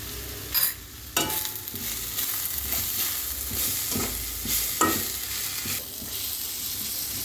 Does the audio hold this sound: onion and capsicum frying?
yes